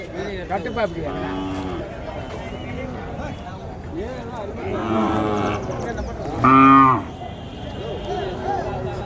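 Cattle and calves at a native cattle market low and moo repeatedly, several loud calls rising above steady crowd chatter, with one especially loud, close moo near the end.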